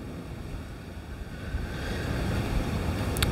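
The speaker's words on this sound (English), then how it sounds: "So it's really windy today." Strong gusty wind blowing outdoors across open hunting ground, a steady broadband rush that builds louder toward the end, with buffeting on the microphone.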